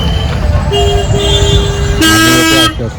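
Cars and other vehicles driving along a crowded road near a temple, with several loud sustained horn blasts and toots layered over steady close traffic rumble.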